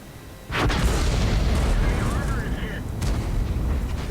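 In the World of Tanks video game, an artillery shell hits a tank with a heavy booming impact, followed by a second rumbling blast a few seconds later, while someone talks over the game sounds.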